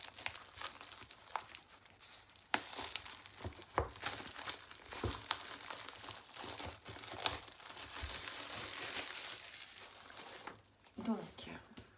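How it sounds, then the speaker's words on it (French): An oracle card box set is unwrapped and opened up close, with soft, irregular crinkling and tearing of packaging that comes in quick bursts, and a brief voice near the end. "nous allons découvrir ce coffret que je vais ouvrir"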